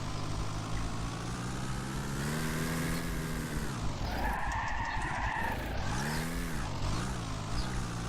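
A 450hp Maluch 126p drifts in the BeamNG.drive driving game, its tyres skidding loudly and steadily over a droning engine whose pitch sweeps down and back up as it slides, with no talking.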